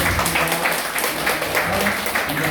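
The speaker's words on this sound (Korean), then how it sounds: "다시 한번 환영의 박수를 하도록" A church congregation claps in welcome during a Sunday worship service, a dense, steady round of applause filling the whole short stretch.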